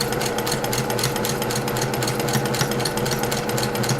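A sewing machine stitching a tote bag seam made of small fabric squares, a fast, steady mechanical rattle running continuously and close up.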